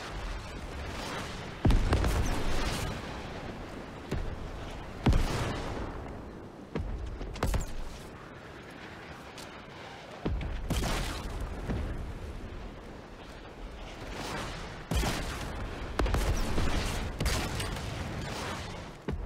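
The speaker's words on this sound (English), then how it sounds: "grenade spam." Grenades blow up again and again in a Fortnite Chapter 2 match: loud, booming blasts at irregular intervals, each with a sharp crack and a rumbling tail, close by and with no talk over them.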